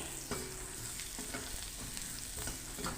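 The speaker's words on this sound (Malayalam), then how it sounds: "അടച്ചൊന്നും വെക്കേണ്ട ആവശ്യമില്ല, നമുക്ക് ഇളക്കി വഴറ്റിയെടുക്കാം." Faint, steady sizzling of onions sautéing in oil in a pan, with occasional soft stirring strokes and scrapes, quiet and close.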